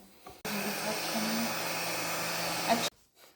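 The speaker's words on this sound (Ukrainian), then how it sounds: "Це ми будемо зробити за допомогою фену." A hair dryer roars steadily for a couple of seconds with a smooth, airy whoosh over a soy candle's top layer, then cuts off abruptly into quiet.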